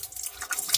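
Very cold water runs and drips from a tap in chilly highland weather, a short, close spatter with steady running under irregular drips, no voices.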